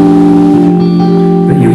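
A sustained guitar chord rings steadily, loud and close, with its notes blending into one full voicing.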